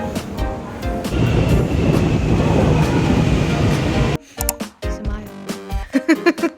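A train rumbles loudly past at close range for several seconds at a Melbourne station platform, then cuts away to quieter station ambience with scattered clatter and voices.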